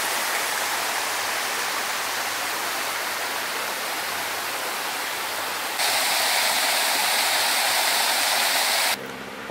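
Man-made waterfalls and a small creek in Waterfront Park, Kelowna, B.C., giving a continuous broadband rush of falling and flowing water that grows slightly louder partway through, with no voices.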